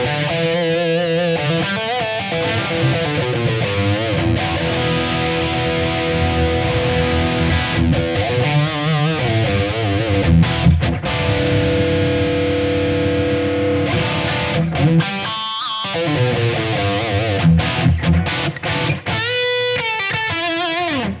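A heavily distorted electric guitar through a Kemper amp plays chords with a bright, crisp tone, loud and continuous with only brief gaps.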